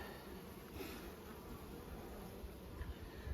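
Honey bees buzz steadily and faintly at an open hive with a drone-laying queen, a continuous soft hum with no talking.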